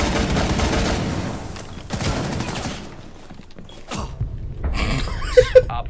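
Gunfire in the video game Rainbow Six Siege, dense bursts of shots in the first two seconds, a quieter lull, then more bursts and a couple of sharp closer pings near the end.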